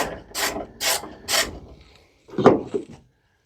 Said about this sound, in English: I'm going to give a touch on the ratchet strap.